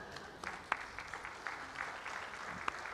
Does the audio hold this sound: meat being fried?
no